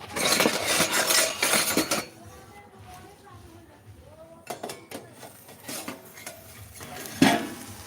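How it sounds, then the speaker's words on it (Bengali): Utensils clinking against a bowl while salted eggplant is mixed, a brisk burst of scraping and clattering followed by sparse taps and clinks as someone talks. "এটা আমি ভালো করে এখন মিশিয়ে নিচ্ছি কারণ এতে নুন দেওয়া আছে"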